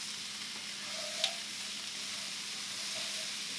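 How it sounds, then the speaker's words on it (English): Sweet potato hash sizzles steadily in a pan as apples are stirred in, a soft continuous frying hiss with one brief scrape of the spoon; no one speaks. "let's get our apples mixed in here"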